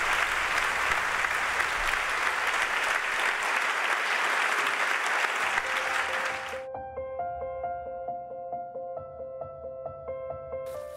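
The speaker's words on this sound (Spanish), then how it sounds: "merecéis un aplauso fortísimo" An audience at a food bank's 25th anniversary ceremony applauds loudly and densely for about six seconds, then the clapping cuts off and soft sustained music tones carry on alone.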